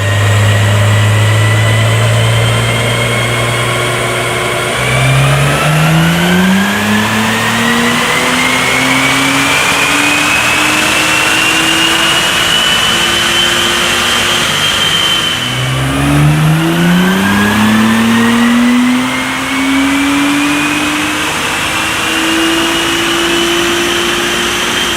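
A tuned Acura NSX fitted with an ARMYTRIX exhaust revs hard on a dyno, running on 93-octane fuel. The engine is loud and close, climbing steadily through two long pulls from idle to high revs, with no talk.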